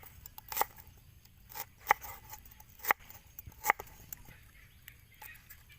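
Galangal root being cut by hand in a kitchen, a handful of sharp, crisp snips and chops spaced irregularly, close and fairly quiet, with no talking.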